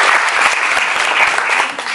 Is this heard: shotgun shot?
no